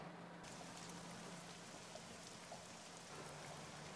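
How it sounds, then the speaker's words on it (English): Steady rain falling in the Train Simulator game, a soft, even hiss of drops spread across the whole stretch, faint and uninterrupted with no voices. "You can hear the rain."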